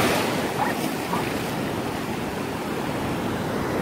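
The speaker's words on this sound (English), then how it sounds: "Look at that beautiful wave." Ocean waves break on Pompano beach just after a hurricane, a loud continuous surf wash close by, with wind buffeting the microphone throughout.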